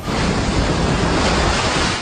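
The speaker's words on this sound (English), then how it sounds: "Growing waves threatening homes and businesses, some already damaged by the overwash." High surf from Hurricane Erin pounds the beach, a loud, dense roar of crashing waves mixed with wind buffeting the microphone, continuous and close with no voices.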